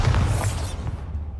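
Bombarda blasting spell from the Hogwarts Legacy video game, a loud low booming burst that rumbles and fades over a second and a half, with no voices.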